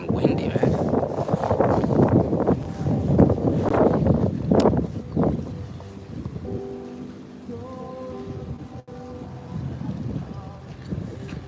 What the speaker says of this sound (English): Whoa, it's getting windy